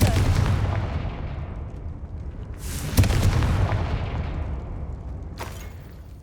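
Confringo blasting spells exploding in Hogwarts Legacy, heard as loud booming blasts over a continuous low rumble, with a strong burst at the start, another about a third of the way in, and a sharper crack near the end.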